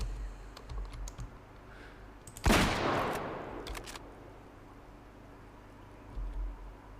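A single sharp tier 6 rifle shot fired at a bear in the hunting game Way of the Hunter, a loud close crack with a decaying echo, set against faint ambient wilderness hum and quiet clicks.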